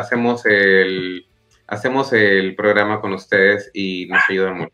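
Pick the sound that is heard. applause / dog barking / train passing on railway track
dog barking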